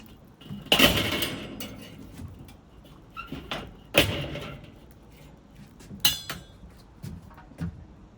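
A metal top grate set down onto a charcoal grill, giving a few sharp metallic clanks and scrapes spread over several seconds, fairly close and with no talking.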